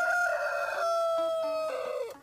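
A rooster crows once in a long, loud, drawn-out call that wavers and then falls away at the end, heard clearly and alone with no voices.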